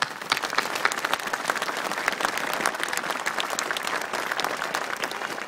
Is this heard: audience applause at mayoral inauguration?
yes